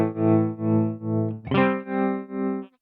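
An electric guitar played through a Danelectro Tuna Melt tremolo pedal set to a sine wave, a sustained chord swelling and fading in smooth, regular pulses about twice a second, then a new chord continuing the same gentle throb.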